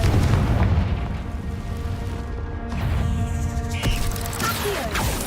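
A Confringo fire spell bursts in the Hogwarts Legacy video game, with booming blasts and crackling fiery rumble layered over dense game sound effects, no talking.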